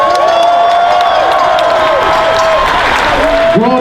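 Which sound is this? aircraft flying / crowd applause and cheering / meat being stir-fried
crowd applause and cheering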